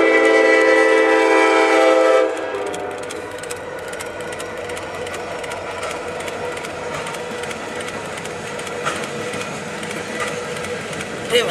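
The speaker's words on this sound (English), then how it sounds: "The produce train eastbound." A train horn blares for a couple of seconds, then an eastbound freight produce train rumbles and clatters steadily close by.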